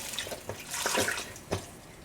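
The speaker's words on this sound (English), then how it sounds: "then broth can go in" Broth poured into a pot with ribs while cooking short rib tacos, a short, close, splashy liquid pour with a few quick gurgles.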